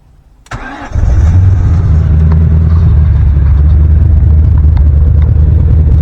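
An MG ZT 260 V8 with a misfire cranks briefly and catches, then settles into a loud, deep, steady idle close by with slight unevenness throughout.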